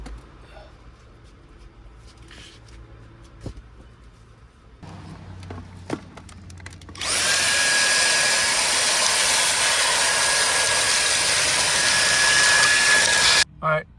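A vacuum cleaner runs inside a Tesla car being lived in, starting partway through with a loud, steady roar and whine that stays unbroken near the mic before cutting off at the end, after quieter handling noises.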